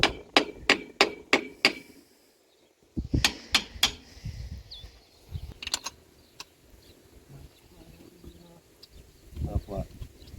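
Sharp hammer blows ring out on an irrigation pipe connector: a quick run of about six evenly spaced strikes, a pause, then a few more scattered knocks, with some talk in between.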